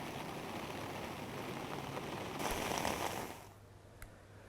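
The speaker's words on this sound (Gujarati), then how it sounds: "ચાંગોદરા, બોરવાવ સહિતના ગામમાં વરસાદ વરસ્યો છે" Steady rain pours down over a village in Gujarat, a dense broadband hiss that swells louder for a moment before easing back to a softer, continuous patter.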